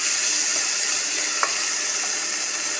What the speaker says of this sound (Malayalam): ഇനി നമുക്കിതിലേക്ക് ആവശ്യത്തിനുള്ള വെള്ളം, ഗ്രേവിക്ക് ആവശ്യത്തിനുള്ള വെള്ളം ഒഴിച്ചു കൊടുക്കാം